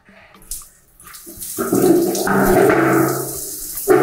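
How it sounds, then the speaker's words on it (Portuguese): A valve clicks, then water surges into a Lorenzetti electric shower head, rising into a steady rushing flow that fills and gurgles, ending with a brief knock. "Abrir, deixar o chuveiro encher."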